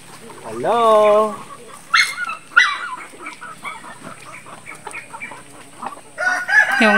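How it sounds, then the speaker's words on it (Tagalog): Backyard chickens cluck and squawk in short bursts, including one drawn-out crowing call, with people talking quietly between the calls. "Yung manok."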